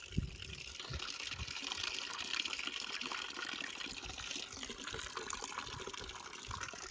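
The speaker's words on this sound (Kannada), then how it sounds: "ಆಲ್ರೆಡಿ ನೀರು ಹಾಕಿದ್ದೀನಿ ಸೊ ಮತ್ತಷ್ಟು ನೀರು ಹಾಕ್ತೀನಿ" Water poured steadily from a can into a drinking trough for animals at an outdoor temple site, a continuous gushing, splashing flow heard up close throughout.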